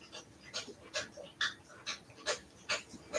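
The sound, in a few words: dogs drinking water and panting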